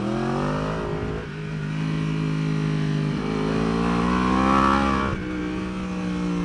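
A 2015-or-later Yamaha R1 superbike screams at high revs on a race track, heard from onboard as a loud, continuous engine wail that rises and falls with quick gear changes.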